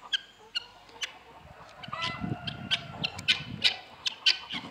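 Chickens cluck and squawk nearby while loud, piercing cries of a courting peacock rise repeatedly above them, outdoors on a farm with goats, steady farmyard bustle.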